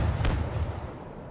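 A Hurricane missile launching in the space combat game Star Wars X3AP, a short, loud whooshing blast that swells quickly and then trails off into a low, rumbling roar.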